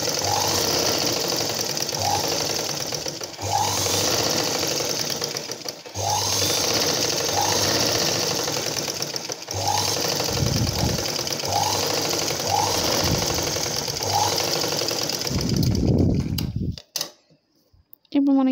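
A sewing machine runs steadily, stitching along one side of a blouse border in a home tailoring setting, its motor hum broken by brief pauses and fabric handling before stopping near the end.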